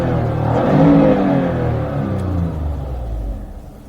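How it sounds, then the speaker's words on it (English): Toyota RAV4 engine with ignition coil misfire codes P0356 and P0300 running nearby, a low rumbling hum that swells briefly like a light rev and then settles back to an uneven idle. "The engine seems to run fine."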